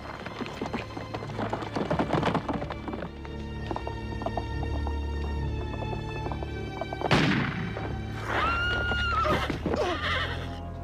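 In a western film, a horse neighs loudly with a long, wavering whinny near the end, following busy hoofbeats and a sharp gunshot boom amid dense background noise.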